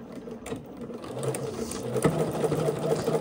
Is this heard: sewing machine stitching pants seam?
yes